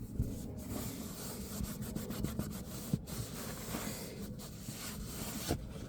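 A paper towel rubbed and wiped across the inside wall of a van, a continuous close scraping swish with occasional louder strokes over steady background noise.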